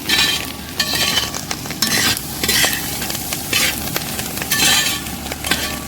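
Clam meat fries and stirs in oil in a pan, a continuous sizzle broken by repeated scraping strokes of a spoon, loud and close with no talking.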